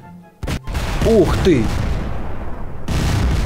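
A bomb in Garry's Mod goes off with a sudden loud blast, followed by a sustained rumbling roar of continuing explosions; a voice exclaims in surprise over the noise.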